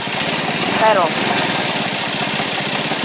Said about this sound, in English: Gotta have the idle up a little bit to keep it running